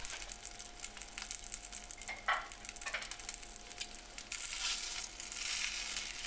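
Rice and egg stir-fried in a stainless 18/10 saucepan, a soft, close sizzle with scraping, crunchy stirring strokes, the frying swelling louder near the end.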